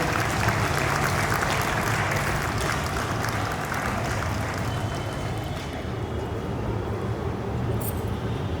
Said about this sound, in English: Please give them a big round of applause because they deserve it.